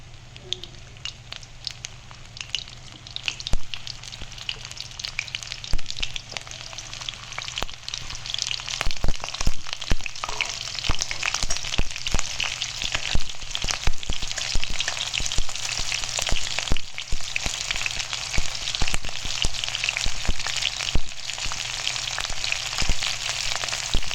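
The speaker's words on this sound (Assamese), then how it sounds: "এয়া এটাকে দি দিলোঁ তেলত, অকণমান গেছটো বঢ়াই দিলোঁ" Cut pointed gourd fries in hot oil on a raised gas flame, a loud, dense crackling sizzle that builds and stays steady with sharp spattering pops throughout, close and uninterrupted by talk.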